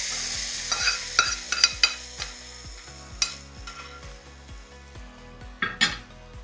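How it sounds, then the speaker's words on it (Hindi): A tempering of red chilli and curry leaves is poured into kadhi, bringing a soft sizzle with scattered clinks of a pan and spoon knocking against cookware, no voices. "अब हम ये सारा छौंक कढ़ी में डालेंगे।"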